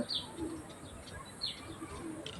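Pet birds in a wooden coop giving soft, repeated dove-like coos with faint chirps, heard at a moderate distance over a low background hiss.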